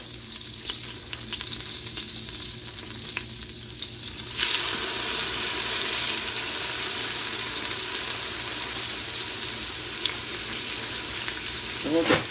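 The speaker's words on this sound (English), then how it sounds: "You can sear right in it, so you don't have to use another pan." Chicken thighs sear in an Instant Pot with steady, loud, continuous sizzling that grows louder and brighter partway through, with faint clatter and background hum underneath.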